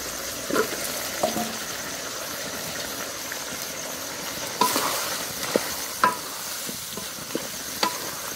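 Stirring of desi chicken and pre-fried potatoes in a pan: steady close sizzle with scraping spoon strokes, several sharper clanks against the pan, no voices.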